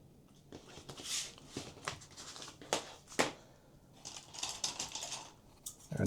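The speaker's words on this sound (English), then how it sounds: "take a pen and you can just trace that out." A pen traces around a template laid on paper, giving light scratchy strokes with soft handling rustles, close and fairly quiet, in several uneven bursts.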